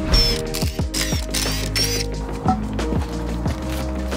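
The driver-side front wheel of a Subaru WRX/STI on stock suspension is being removed: close mechanical ratcheting and clanking with a series of sharp metallic clicks and knocks, loud and irregular, with no talking.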